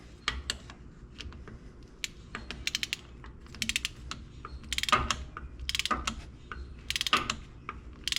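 A torque wrench tightens a plug on a Toyota Tundra differential, giving scattered, sharp ratcheting clicks that come in irregular bursts at close range, with no talking.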